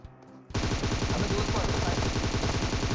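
Sustained automatic gunfire in the mobile game PUBG Mobile, a rapid, loud burst of rhythmic shots that starts abruptly after a short quiet moment and continues unbroken to the end.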